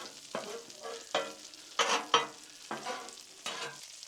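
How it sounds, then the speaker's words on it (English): Shrimp sizzles and crackles in hot oil, with bursts of scraping as it is pushed around on a Blackstone flat-top griddle, close and steady. "let's add a little more oil around here and get this stuff to frying"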